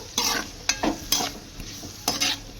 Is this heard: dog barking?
no